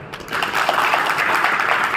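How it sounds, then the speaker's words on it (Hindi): Audience at a Rathore Tirth sankalp yatra gathering in Dahi Dhar bursts into brief, dense applause that swells and holds steady. "ताली बजनी चाहिए।"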